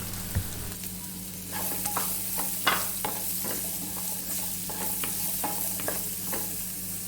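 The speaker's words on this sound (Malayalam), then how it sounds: "ഇപ്പോൾ നമ്മുടെ ഉള്ളിയും സവാളയൊക്കെ നന്നായിട്ട് വഴന്നു വന്നിട്ടുണ്ട്." Onions, chili and spice powder sautéing in the same pan used to fry brinjal, a constant close sizzle with repeated light scrapes and taps of a spoon stirring, no talking.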